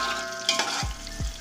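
Onions frying in hot oil in a pan for kabuli pulao, a steady close sizzle with a couple of stirring scrapes.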